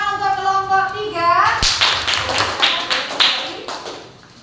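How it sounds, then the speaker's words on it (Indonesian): A voice speaks briefly, then a group of children in a classroom bursts into quick, scattered clapping that continues steadily before tapering off near the end. "Tepuk tangan untuk kelompok 3."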